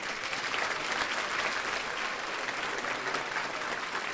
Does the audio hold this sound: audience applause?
yes